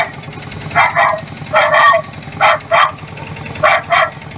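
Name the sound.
recorded dog barking played from loudspeaker on auto rickshaw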